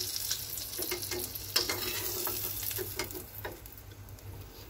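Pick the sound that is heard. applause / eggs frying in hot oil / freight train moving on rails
eggs frying in hot oil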